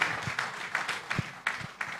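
Audience at an AERMP tenth anniversary and new member induction event applauds, a moderate wash of clapping with uneven bursts throughout, fairly close, with a faint voice underneath.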